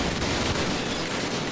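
Dense, continuous gunfire from World War II battle in the original Call of Duty, a constant noisy barrage of overlapping shots with no clear gaps.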